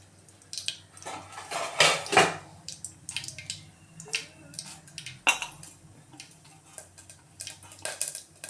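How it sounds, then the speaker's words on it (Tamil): Mustard seeds pop and splutter in hot cooking oil in a pan while making arai keerai kadaiyal, a run of sharp, irregular crackles and bursts, close and moderately loud. "பாருங்கள், கடுகு நல்லாவே பொரியுது."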